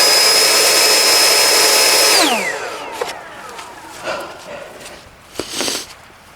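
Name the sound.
Ryobi 40V battery tool running on turbo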